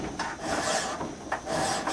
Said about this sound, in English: notice how I'm picking the file up and then pushing back into the bevel